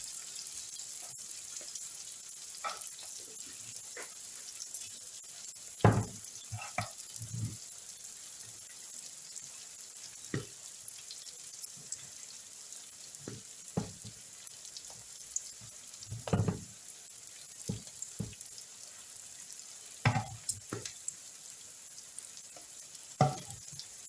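Fried rice sizzles steadily in a pan under a soft, continuous frying hiss, broken by frequent sharp clicks and scrapes of stirring, with a few louder clatters spread through.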